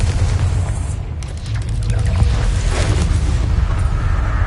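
A Confringo fire spell blasts in Hogwarts Legacy, a loud booming explosion with a deep rumbling roar that keeps churning and crackling after the hit.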